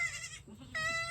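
Farm goats in a pen, part of a herd of eleven with kids, bleat twice in clear, wavering cries separated by a short pause, fairly close and with no voices over them.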